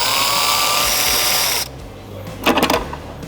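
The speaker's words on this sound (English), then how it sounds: "with the Phillips, go ahead and take your 3 screws out." A power screwdriver whines steadily up close while removing Phillips screws from a Harley-Davidson motorcycle headlight, then cuts off, followed by a few fainter rattling clicks.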